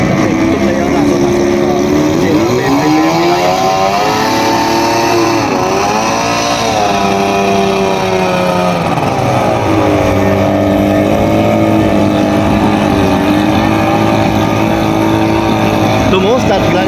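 The engine of a racing power boat warms up before a race, running loud and close with a deep throbbing idle that rises and falls in pitch through several revs. People talk over it.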